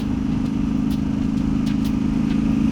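Yamaha Tenere 700 motorcycle with an AliExpress exhaust idling outdoors in chilly weather, a steady, loud, even low burble with faint wind noise and no speech.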